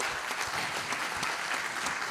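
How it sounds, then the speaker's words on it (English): A conference audience at a human rights event during EuroPride in Belgrade gives a warm round of applause for the Belgrade Pride team, with dense, continuous clapping that holds at a steady level throughout. "a big round of applause to Goran and all the team at Belgrade Pride"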